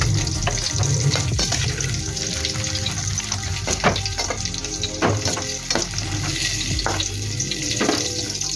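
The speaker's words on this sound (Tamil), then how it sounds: "இங்கே ஆயில் சூடு வந்துச்சு. அதனால் நம்ம இப்போ காலிஃப்ளவர் அதில் போட்டுருக்கோம்." Cauliflower pieces fry in hot oil with cinnamon in a pan, giving a close, steady sizzle throughout with occasional light clicks and stirring sounds.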